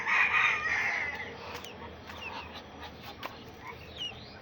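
Hens and small chicks in a backyard coop cluck and call in short, close bursts, loudest at the start and then scattered and softer, over a faint background murmur.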